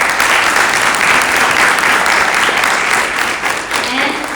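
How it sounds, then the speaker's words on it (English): A summit audience in Atlanta gives a sustained round of applause, dense, even clapping from many hands filling the room at a steady loud level, with a slight fade near the end. "Give them a round of applause."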